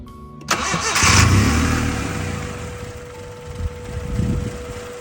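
A car engine cranks and fires after a throttle body install, then settles into a steady idle with slight revving, close by and loud, with no one talking.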